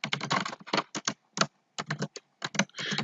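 Close, crisp keystrokes on a computer keyboard tap out a Java print statement in irregular quick bursts with short gaps between words.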